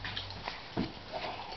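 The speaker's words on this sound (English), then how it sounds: "Do you hear that pup?" A six-week-old puppy whimpers softly and shuffles about, faint and close, with a few brief rustling movements.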